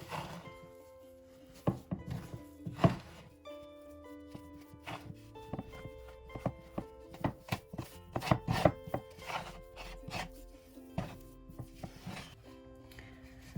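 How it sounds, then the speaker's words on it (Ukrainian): Lazy dumpling dough being stirred together with flour and semolina in a bowl, with repeated scraping and thudding strokes in an uneven rhythm, close and moderately loud, with no talking. "Знову добряче перемішую."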